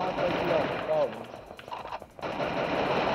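Bursts of rapid gunfire in a shooter video game, loud and close, mixed with game ambience and crackling effects, with a player's voice briefly present.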